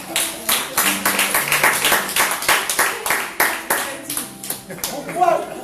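Church congregation clapping together to acclaim Jesus during a sermon, a fast, even run of sharp claps from many hands, with voices mixed in beneath the clapping.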